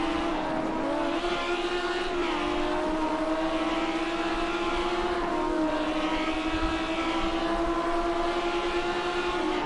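A race car at Monza is held at full throttle on the exit of the Ascari chicane. A loud, sustained engine whine climbs steadily in pitch, with brief dips at gear changes.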